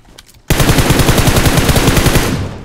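Automatic gunfire from PUBG Mobile aimed at a buggy: after a quiet start, a loud, close burst of rapid evenly spaced shots rattles for about two seconds before tapering off.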